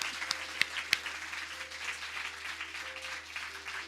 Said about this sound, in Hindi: हाथ उठाएंगे और यीशु मसीह के लिए जोरदार तालियां बजाएंगे।